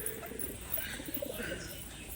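Pet pigeons kept on a rooftop on a rainy day coo softly and steadily under a hiss of rain, with no talking.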